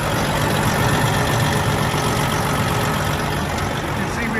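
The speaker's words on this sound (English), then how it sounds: "by the way that it sounds as it's running, the engine's in decent shape" A 1996 Freightliner FLD120 semi truck with a Detroit engine idles close by, a steady, dense low rumble running unbroken from start to finish with no talk.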